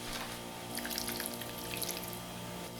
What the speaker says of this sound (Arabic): هي محتاجة مية تاني.